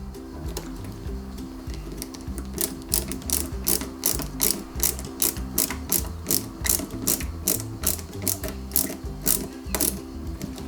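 Two small screws being driven by hand into the rear fuel tank of a Lancia 037 model car kit, a steady run of fast, quiet ratcheting clicks in a near, regular rhythm.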